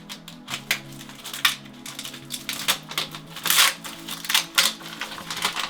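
Plastic packaging around a van wet room floor crinkles and crunches as it is unwrapped by hand, with irregular close-up rustles and sharp crackles that cluster more densely toward the end.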